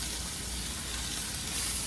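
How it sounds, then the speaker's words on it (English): Meat sizzles loudly and steadily in a hot frying pan, a constant close crackling hiss with no voices. "I'm going to start out with just putting 6 of them in the frying pan"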